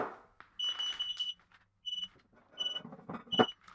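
High-pitched electronic beeping from a carbon monoxide detector signalling a high level, repeating in short bursts with brief gaps, fairly close, alongside some faint background clatter.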